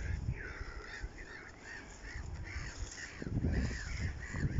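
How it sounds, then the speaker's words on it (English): Seagulls call overhead at a nature reserve lagoon in repeated harsh cries, moderately distant and fairly faint, over a low rumbling background. "They're all seagulls."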